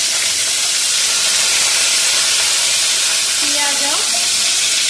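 Onions and spices frying in oil in a kadhai, a steady close sizzle and hiss throughout with a brief stirring scrape near the end.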